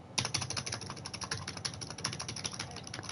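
Computer keyboard keys clacking in a fast, steady run of close, crisp typing strokes that continue without pause, with no talking over them.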